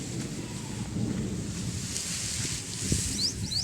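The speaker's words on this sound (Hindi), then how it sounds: "ये ऐसे बस बादल की आवाज़ें तो आपको पता है कितनी आ रही है।" Low rolling rumble of distant thunder beneath a steady wash of rain, with a few faint bird chirps near the end.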